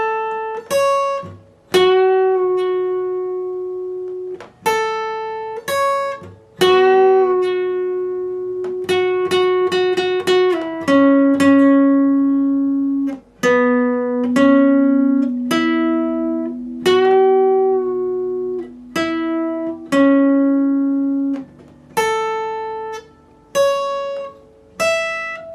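Guitar playing the first two parts of a riff, a steady sequence of plucked single notes and short phrases ringing out clearly and loudly for about twenty-five seconds, with no talking.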